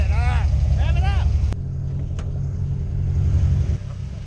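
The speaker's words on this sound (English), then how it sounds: "Rev it up. Rev it up!" A car's engine rumbles steadily at a race track, holding a low idle-like drone with a brief surge, while voices talk over it.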